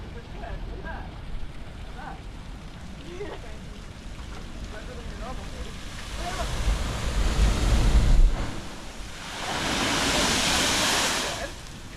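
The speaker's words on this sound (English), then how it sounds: "ocean water comes rushing in and shoots it out in like a big geyser." Ocean waves surge into a lava blowhole on Maui, Hawaii, with low wind-buffeted surf building to two loud rushing bursts of spray, while faint voices murmur early on.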